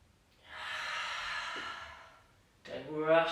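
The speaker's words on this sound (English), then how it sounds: "Don't rush those breaths." A yoga-class breath, a long breathy exhale lasting about two seconds at moderate level, followed by a brief voiced intake with tonal, sigh-like quality near the end.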